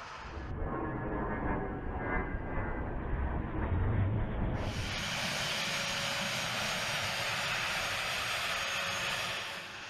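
Steady, loud engine roar of a 50-year-old U.S. Air Force military aircraft, a constant broadband drone that brightens and grows fuller partway through, with no voices present.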